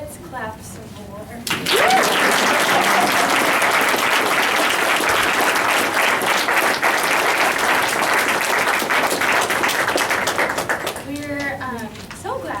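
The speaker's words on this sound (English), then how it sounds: "Let's clap some more." Poetry reading audience starting up a full round of applause after a brief voice, loud sustained clapping from many hands that tapers off as someone begins speaking again.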